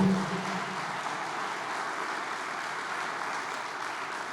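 A church congregation applauds in a steady, dense wash of clapping that holds evenly throughout, moderately distant, with no voices over it.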